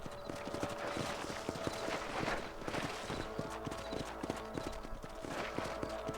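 Horse hooves clip-clop in a steady, even rhythm in the video game Red Dead Redemption, heard close over a continuous ambient bed of game sound and music.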